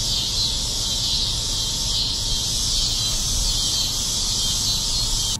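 Cicadas in Texas trees fill the air with a loud, continuous high-pitched buzzing drone that holds steady throughout, with no other sounds on top.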